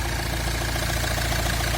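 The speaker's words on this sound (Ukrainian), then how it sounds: "Моторчик працює як часики, жодного постороннього звуку." A 2-litre Opel Vivaro van engine idling with about 250,000 km on it, a steady even low mechanical thrum with regular pulsing, close and continuous with no voices.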